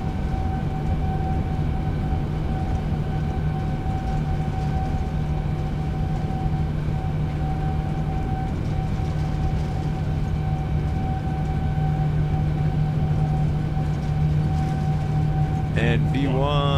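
Jet engines of a Boeing 787-9 in a flight simulator at takeoff thrust, a loud continuous roar with a steady whine that holds for the whole span, with talk over it.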